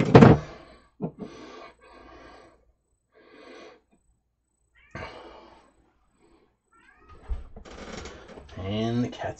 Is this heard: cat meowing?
yes